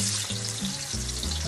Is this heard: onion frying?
yes